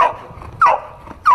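A border-guard detection dog trained to find explosives and drugs barks three times, short, loud and close, each bark spaced about half a second apart, with no talk over it.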